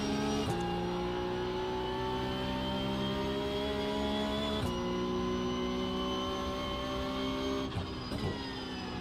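A Porsche Cup race car engine drones at high revs around Suzuka in a racing sim, a steady, buzzing note with a few sharp gear-shift breaks.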